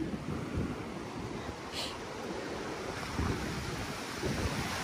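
Sea waves wash against a rocky shore, a continuous rolling surf mixed with gusty wind rumble, fairly close and steady, with no voices.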